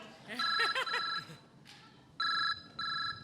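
A phone rings in bursts of electronic trills, loud and close, inside a train compartment, with people's voices briefly overlapping between the rings.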